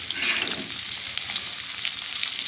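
Green chilies, onion and panch phoron fry in oil in a pan. The sizzle is a continuous, close hiss with faint crackles, and no one speaks.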